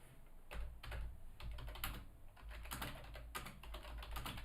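Fingers type a message on a computer keyboard in quick, uneven bursts of soft key clicks, close but quiet over a steady low hum, with no voices.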